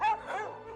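A police dog of the Sûreté du Québec at a crime scene search, giving a single short, close bark that trails into a whimpering yip.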